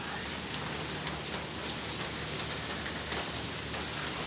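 Heavy rain pours steadily and close by in a mango orchard during a storm, a dense, unbroken hiss with no voices.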